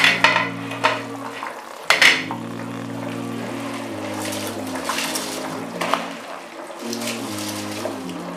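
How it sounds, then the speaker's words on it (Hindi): Rice pouring into a pot of boiling water, with clinks and stirring scrapes against the metal over a steady bubbling hiss. "पानी हमारा उबल चुका है, अब हम इसमें चावल डालें।"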